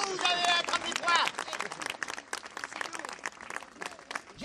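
An audience at an outdoor heritage show applauds, a scattered, fairly faint patter of clapping mixed with cheerful voices and cries that carries on for a few seconds.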